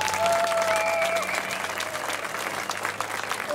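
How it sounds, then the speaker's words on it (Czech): A concert audience applauds the musicians from Jižní Čechy, thick ongoing clapping with a faint tone lingering early on and a little crowd noise beneath. "takže veľký potlesk ešte raz pre nich."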